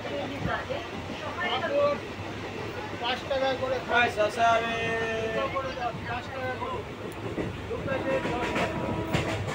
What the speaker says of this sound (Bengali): ট্রেন এসে গেছে, ট্রেনে উঠে পড়েছি।